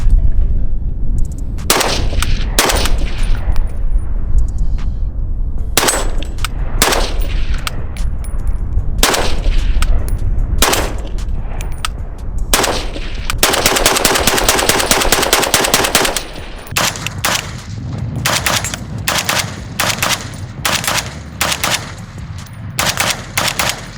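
A PSA AK-47 rifle fires a long string of loud, sharp gunshots at close range. The shots come singly and in quick pairs, with one short rapid burst near the middle, and the rifle cycles every round.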